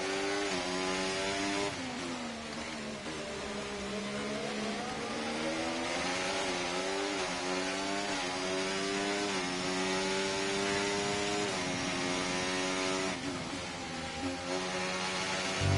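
An F1 race car engine in the F1 24 video game drones at high revs while running hot, its pitch wavering up and down steadily and loudly with no break.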